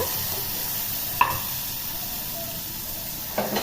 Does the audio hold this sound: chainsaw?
no